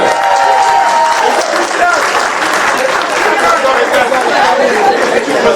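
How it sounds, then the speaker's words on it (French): Guests at a family birthday celebration applauding a two-and-a-half-year-old child, loud sustained clapping mixed with crowd chatter and voices throughout. "On l'applaudit très fort, mesdames et messieurs."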